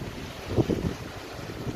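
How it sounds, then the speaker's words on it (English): Gusty wind buffets the microphone at a water's edge, a low rumbling roar that swells and fades over a couple of seconds, with no voices. "That's a bit blowy today."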